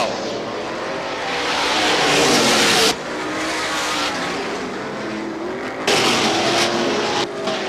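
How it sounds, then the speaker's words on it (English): At a short oval speedway, a stock race car spins out amid loud engine roar and tire noise, with abrupt shifts in volume as the sound cuts and changes, and other cars droning through. "we got a car spinning in turn number 2"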